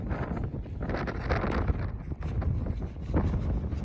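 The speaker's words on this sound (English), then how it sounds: "The wind is so brutal." Strong wind blows outdoors on open Wyoming ground, a continuous loud rumble that buffets the microphone in uneven gusts, with no speech heard.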